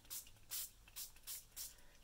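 Ink spritzed from a hand spray bottle onto journal paper, five distinct short hissing bursts in a steady rhythm, close and fairly quiet with soft pauses between.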